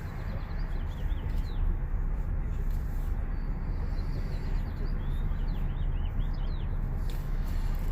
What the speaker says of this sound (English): Oh, the sound of the birds chirping is a beautiful thing.